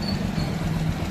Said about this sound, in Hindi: इसमें टाइमिंग चेन की आवाज़ आ रही